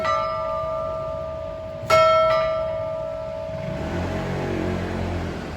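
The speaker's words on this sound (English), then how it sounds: "there you got to see those bells in action" Clock tower bells sound in a London street, a sustained ringing tone with a couple of fresh strikes about two seconds in, then fading into steady traffic and city noise.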